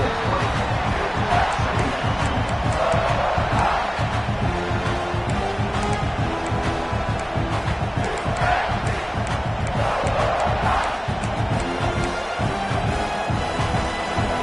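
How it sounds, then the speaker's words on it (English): A stadium crowd in a college football video game roars and cheers continuously, a dense, loud wall of massed voices that rises and swells throughout. "This crowd rising up"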